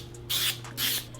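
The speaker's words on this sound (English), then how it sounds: "I'm going to spray it with some Pam" Pam nonstick cooking spray hisses onto a glass pie plate in two short bursts, close and crisp, separated by a brief pause.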